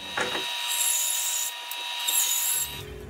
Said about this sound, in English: I'm going to do that with this jig made to travel in the bandsaw.